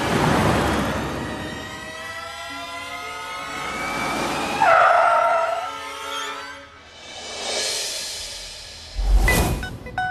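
A car pulls away with a rising engine rev and a sharp tire screech midway, followed by another burst of acceleration, fairly close and without speech.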